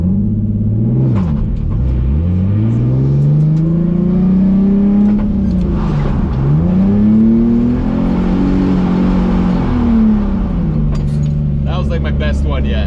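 A drift-prepared car with an e-brake, its engine revving up and down in repeated rising and falling sweeps, loud and close, with voices faintly mixed in.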